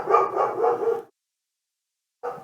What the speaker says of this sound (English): my dog most probably heard something